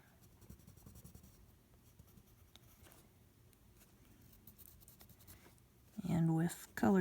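Soft, steady scratching of a colored pencil applied with heavy pressure on paper, close and quiet, continues for several seconds before a louder rustle near the end.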